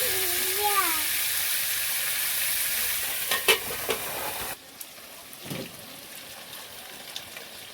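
Chicken with spices is sautéed and stirred in a pan for a light curry, a steady frying sizzle with spoon scrapes and knocks that drops quieter midway, with a voice heard briefly at the start.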